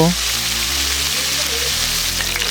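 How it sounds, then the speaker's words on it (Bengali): Katla fish pieces fry in hot oil in a kadai with a loud, continuous, close sizzle that holds steady throughout. "তেলটা ভালো মতো গরম হয়ে গেছে এবারে মাছগুলোকে ভেজে নেব"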